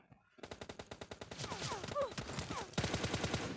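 Rapid automatic gunfire in the mobile battle-royale game PUBG Mobile, dense bursts of loud, evenly spaced shots running almost continuously, with a brief whistling tone partway through and a heavier burst near the end.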